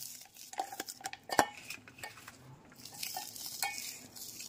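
Chopped onions are squeezed and mixed by hand in a bowl, making soft, irregular wet squelches and rustles with occasional sharper clinks against the bowl, close and fairly quiet.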